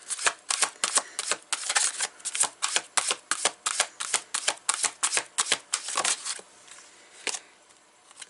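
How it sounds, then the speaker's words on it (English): Tarot cards are shuffled by hand in quick, crisp riffling bursts, close and fairly loud in a steady rhythm for several seconds, then a few slower taps as three cards are pulled. "So, I'm going to pull 3 cards for the week."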